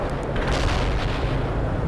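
Artillery fire from a unit in the real-time strategy game World in Conflict, heard as a dense, continuous rumble of booms and blasts throughout, loud and sustained with no clear gaps between shots.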